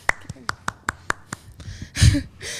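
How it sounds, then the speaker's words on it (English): A few light, polite claps in a sparse, even rhythm, like a small golf clap, close and clear, followed by a short burst of voice and rustle at the end. "Golf clap."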